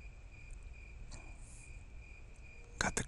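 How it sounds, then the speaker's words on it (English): Crickets chirp at night in a steady high-pitched trill, faint and continuous, with a couple of soft clicks and a brief louder rustle near the end; no one speaks. "Got the crickets working tonight"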